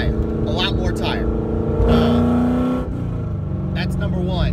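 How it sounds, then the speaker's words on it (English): A Coyote-swapped car with a full 3-inch exhaust idles and revs loudly nearby, its deep engine drone swelling into a sustained rising rev in the middle before settling back, with someone talking over it. "And the car is absolutely insanely loud."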